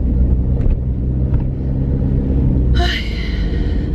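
A low, steady car engine rumble runs throughout, close and constant, with a brief brighter whir near the end.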